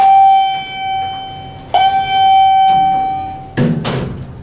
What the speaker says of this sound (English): The beeping isn't actually the indicator, it's that, which is.